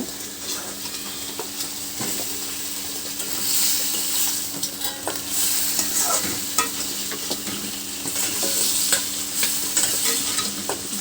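Two pre-fried eggs tossed into a hot pan, a steady loud sizzle with a spatula scraping and stirring repeatedly against the metal.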